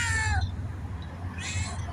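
Tiny newborn kittens, a litter of five, giving two short high mewing calls close by, separated by a brief pause.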